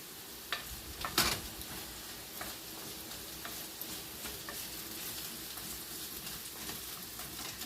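Rice being stirred in a hot pan, a steady soft frying sizzle with scattered scraping and tapping from the spoon, a couple of sharper knocks near the start, no voices.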